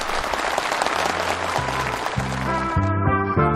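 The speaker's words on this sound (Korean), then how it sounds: "살림집 이용 허가증이 열렬한 박수 속에 전달됐습니다" Enthusiastic applause from a crowd of officials, builders and farm workers at a housewarming ceremony for new homes in Jagang Province, steady and dense, with music rising in beneath it partway through.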